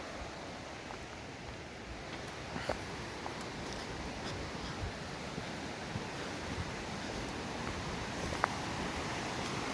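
A river flows below a forest trail on the Kaslo River, heard as a steady, broad rushing wash that carries on without a break, with a few faint knocks from footsteps on the trail.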